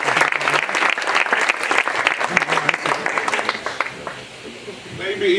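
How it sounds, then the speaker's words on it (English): Loud, sustained applause from an audience for the chefs at the opening of KINNERNET Catalonia, dense clapping with some crowd voices, tapering off near the end as a voice begins speaking. "I would like to actually have you now give an applause to all the chefs"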